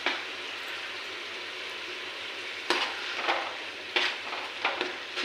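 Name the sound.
frying onion paste with salt and turmeric in a pan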